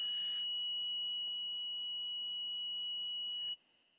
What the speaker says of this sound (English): we have the alarm sounding off, not because of what you're saying, but simply because it's the first Thursday of the month.